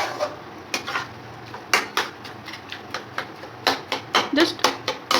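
A utensil scrapes and clinks against a pan while tomatoes and salt are stirred for paneer bhurji, irregular sharp taps and scrapes in clusters, close up, with a voice talking between them.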